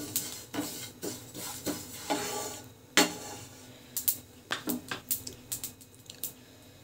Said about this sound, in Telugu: ఇప్పుడైతే నువ్వులు ఫ్రై చేస్తున్నానండి.